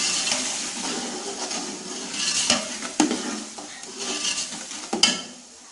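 Coriander powder is stirred into chicken pulao in a pot, with a spoon scraping and clinking against the metal in steady strokes and a few sharper knocks, close and fairly loud, with no talking.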